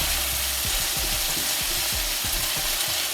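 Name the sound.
stir frying ackee and saltfish with pepper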